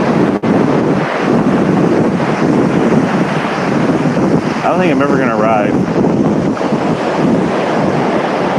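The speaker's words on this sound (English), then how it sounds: "I'm getting too close to the ocean. Too close to the ocean, the waves." Ocean surf rolls and breaks steadily on the shore, loud and continuous and mixed with heavy wind buffeting the microphone, while someone says a few words partway through.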